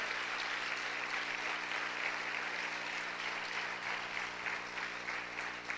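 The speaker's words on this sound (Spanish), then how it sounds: "Aplaude fuerte al Señor." A congregation applauding the Lord during a church sermon, sustained dense clapping at a steady level, faint and distant, with no speech.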